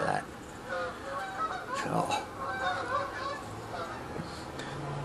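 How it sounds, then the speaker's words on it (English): Geese fly overhead, repeated honking calls scattered through the clip at moderate distance, with someone speaking briefly over them. "geese flying over."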